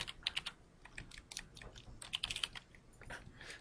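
A computer keyboard being typed on to enter a street address into a map search bar, a soft run of quick key clicks in short irregular bursts with brief pauses, fairly quiet and close.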